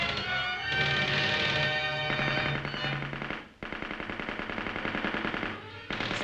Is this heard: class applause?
no